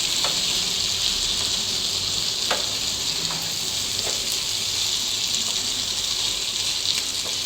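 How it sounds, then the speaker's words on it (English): Chicken pieces coated in masala gravy for chicken tikka masala sizzle and fry steadily in a pan, a continuous bright crackle with a few sharper pops, close and alone with no talking. "Let the chicken cook with the masalas for 2 to 3 minutes."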